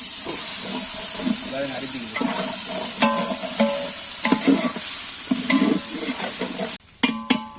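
Onions frying in a pan for chicken biryani, a steady loud sizzle with stirring clatter and occasional utensil clinks running throughout, with voices talking over it in the background.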